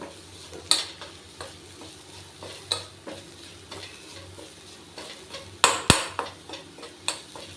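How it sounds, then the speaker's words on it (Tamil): Garlic frying in a small amount of oil in a pan, stirred with a utensil in repeated scraping strokes, with a soft sizzle underneath and a couple of sharper clanks of metal on the pan. "நம்ம லெஸ் குவான்டிட்டி எண்ணெயில் தான் நம்ம வறுக்கிறோம்"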